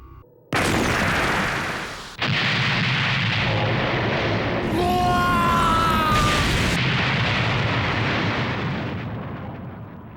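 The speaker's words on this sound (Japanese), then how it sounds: "これより敵戦艦を撃つ。" Warship weapons firing on an enemy battleship in a 2005 Gundam SEED anime space battle, a loud sustained roar of cannon blasts and explosions with a rising beam-like whine in the middle, continuous and dense.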